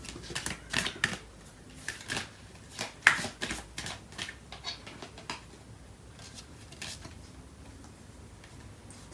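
Tarot cards are shuffled by hand in a quick run of crisp, papery riffles and taps, busy at first and then thinning out and quieter, with no talking.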